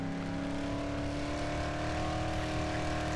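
A car engine in the Dead Island video game holds a steady, loud drone with a sustained hum and no break across the whole stretch.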